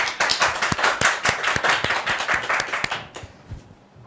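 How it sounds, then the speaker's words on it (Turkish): Studio audience applause on a Turkish television talk show, a dense burst of many hands clapping close and loud for a few seconds, thinning out and fading toward the end. "Alkışlarınızla."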